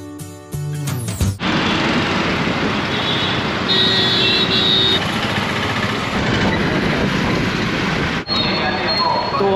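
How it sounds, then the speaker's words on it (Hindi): Train at Jodhpur railway station in Rajasthan, a loud continuous rumble of rolling rail cars with faint wheel squeals, after a brief noisy start. "तो अभी हम पहुंच चुके हैं जोधपुर रेलवे स्टेशन"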